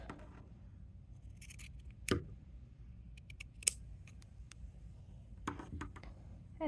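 Scissors snip through fabric being cut out for a sewn project bag, a few sharp, separate cuts close by against a quiet room.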